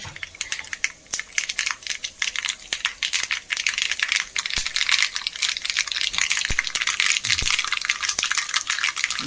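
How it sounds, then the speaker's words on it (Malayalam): Mustard seeds splutter and pop in hot oil for a curry tempering, giving dense irregular crackles and sharp snaps throughout. The sizzle is close and steady with no talk. "കടുകൊന്ന് പൊട്ടി വന്നോട്ടെ"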